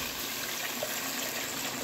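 Water is poured over chicken in a pot while cooking pinikpikan, a steady hissing, splashing flow at moderate loudness, unbroken across the short stretch with no talking.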